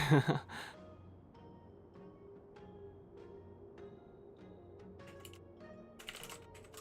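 Sparse, faint keystrokes tap on a computer keyboard in a quiet room, scattered single clicks with a short burst near the end, after an audible sigh or breath at the start.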